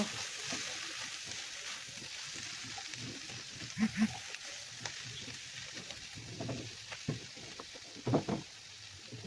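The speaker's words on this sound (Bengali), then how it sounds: "এখন আমি এখানে থেতো করা রসুনটা দিয়ে দিলাম। ভালো করে নাড়াচাড়া করে নিব।" Crushed garlic fries in a pan for a drumstick curry, a soft continuous sizzle with a few spoon knocks and stirring scrapes, fairly quiet and close.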